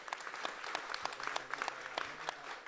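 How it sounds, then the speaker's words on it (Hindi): An audience at a televised anniversary celebration for an agricultural channel claps steadily, a dense even patter of many hands heard from a distance without voices. "एक बार तालियों की गूंज से बता दीजिए"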